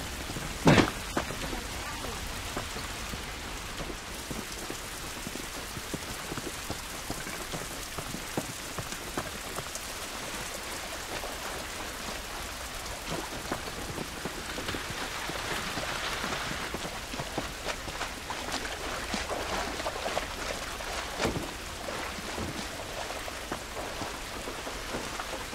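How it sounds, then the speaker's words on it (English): Steady rain pours in The Last of Us, a continuous hiss of drops on surfaces with a few sharper spatters and low rumbles of distant thunder, unbroken throughout with no talking. "This rain ain't gonna do us any good."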